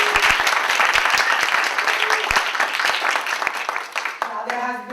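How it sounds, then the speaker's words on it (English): A conference audience at a diversity and research event claps in a dense, loud round of applause with sharp individual hand claps close by, tapering off as a voice begins speaking at the end. "Can we get a round of applause?"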